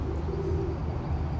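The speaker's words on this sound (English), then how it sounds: "there are an awful lot of pigeons here" Pigeons coo in a Stoke-on-Trent public space, one low, soft, drawn-out coo over a steady outdoor background, fairly close and moderately loud.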